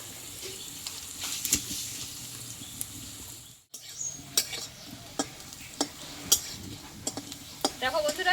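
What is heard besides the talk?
frying red lentil fritters (bora) in a pan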